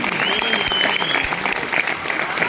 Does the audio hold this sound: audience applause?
yes